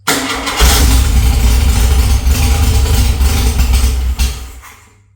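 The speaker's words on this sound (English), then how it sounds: "give it a little choke just to hold the idle up a bit" A Volkswagen Beetle engine, run with a little choke to hold the idle up, runs loud and close with a steady rough idle before dropping away and fading out at the end.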